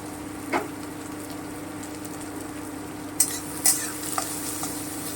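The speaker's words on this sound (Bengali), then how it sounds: "আমি এটা হালকা ব্রাউন করে ভেজে নিচ্ছি" Chopped onions with whole spices frying in hot oil for an egg korma, stirred until light brown: a steady low sizzle broken by a few sharp scrapes and clinks of the spoon against the pan, close up, with no speech.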